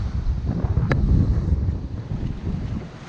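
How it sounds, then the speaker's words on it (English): Strong wind buffets the microphone at a beach during cyclonic conditions, a loud rumbling roar with surf washing underneath, no talk. "You can see the wind starting to pump in and the shore's getting more and more breaking"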